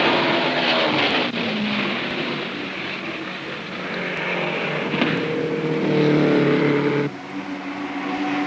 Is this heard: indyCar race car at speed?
yes